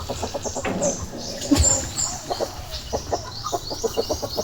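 A mother hen brooding eggs gives rapid, rhythmic low clucks, close and fairly loud, in a steady run of pulses with a brief louder squawk near the middle.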